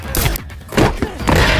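A pistol gunshot in a fight scene from the action film John Wick, heard as a burst of several loud, sharp reports and thuds spread over under two seconds with soundtrack noise around them.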